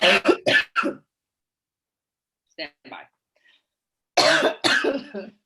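A burst of rapid coughs, then a few faint coughs after a pause, and another harsh coughing fit, with a brief spoken phrase in between.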